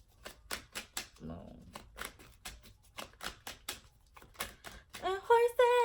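A deck of tarot cards is riffled and shuffled by hand in rapid, crisp bursts of flicking slaps, close and fairly loud, with someone briefly speaking near the end.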